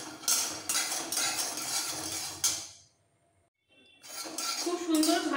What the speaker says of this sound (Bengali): এবার একটু নাড়াচাড়া দিয়ে বাদামগুলো রোস্ট করে নেব।